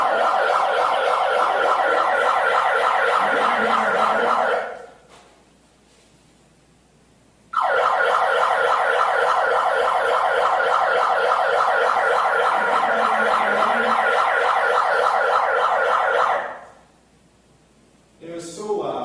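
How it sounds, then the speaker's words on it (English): Loud, obnoxious siren blared through a handheld bullhorn on a sidewalk, wailing in two long sustained bursts with a short pause between them, close and piercing. "He caused Megan Wilson to come back with a bullhorn and blare an obnoxious siren for 7 minutes."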